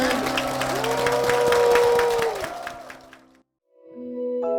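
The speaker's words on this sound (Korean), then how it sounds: "주님께 큰 영광의 박수를 드리겠습니다" Applause from a church congregation rising over sustained music with a sung tone, building then fading out before a brief silence and a new musical passage.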